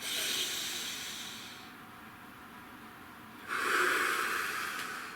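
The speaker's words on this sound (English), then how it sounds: "Nice deep breath." A single slow, deep breath taken close to the microphone: a long, airy inhale, a pause, then a fuller, louder exhale, with no talking.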